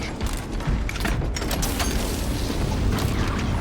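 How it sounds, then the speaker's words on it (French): Metallic weapon reload in the video game Warhammer 40,000: Space Marine 2, a run of clicks, ratchets and mechanical clacks over a continuous rumbling, busy battle backdrop. "Je recharge."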